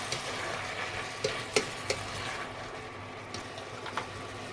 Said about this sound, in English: Let me add the tomato now.